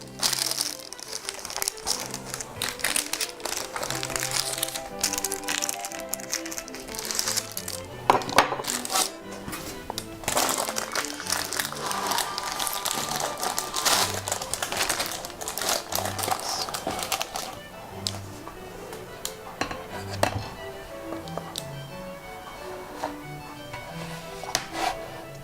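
Knife scraping and cake handling on a serving plate while plating a Donauwellen cheesecake: continuous crinkly, clattery close-up handling noise with small taps and scrapes, steady throughout, with faint background music.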